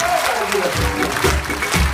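A crowd claps warmly for a group of young men who dance in Armenian military costume. The applause is steady and dense, with no clear beats, and a voice can be heard under it.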